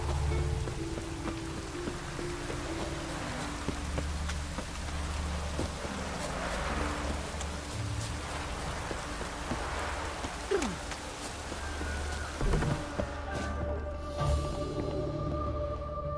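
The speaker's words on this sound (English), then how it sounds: "Looks like rain." Steady rain falling across an outdoor scene in the video game Witcher 3, a soft continuous patter with wind, faint and distant, fading out near the end.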